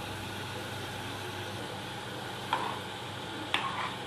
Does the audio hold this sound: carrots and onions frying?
yes